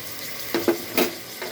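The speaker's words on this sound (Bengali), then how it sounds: "মশলাগুলো এখন নেড়ে চেড়ে কষিয়ে নেব।" Chili, turmeric and coriander powder with salt stir-fried in a pan for a winter vegetable lentil curry, with a soft background sizzle broken by three or four quick scraping stirs, close by and without speech.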